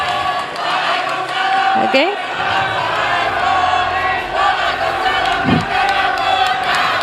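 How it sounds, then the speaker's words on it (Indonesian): A crowd at a televised Indonesian presidential debate cheers and shouts loudly and continuously, with a voice briefly calling out over the din. "silakan beri tepuk tangan yang meriah dulu untuk sesi tanya jawab 3 calon presiden ini"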